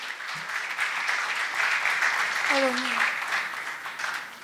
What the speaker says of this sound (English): one more round of applause, please, for all of them